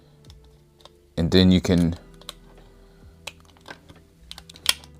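A FansToys FT-31D Marauder plastic transformer figure is folded, giving small sharp clicks and ratchety snaps spread over a few seconds; someone speaks briefly before them.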